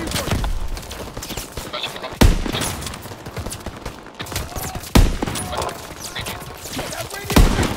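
Heavy gunfire rattles through Call of Duty: WW2 combat, with dense continuous shooting and three loud, sharp blasts spaced a few seconds apart, while voices shout over the noise.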